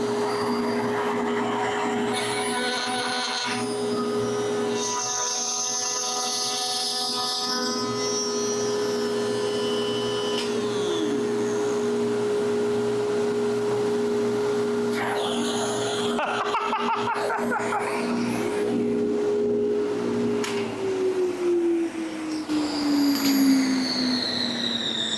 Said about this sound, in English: You've got the router spinning down